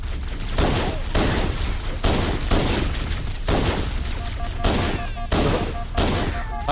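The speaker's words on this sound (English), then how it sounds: "Plasma rifle is actually pretty good in this game." Plasma rifle gunfire from the Halo video game in a co-op session, rapid bursts of energy-weapon fire repeating in steady waves across the clip, loud and close, with some faint game sound beneath.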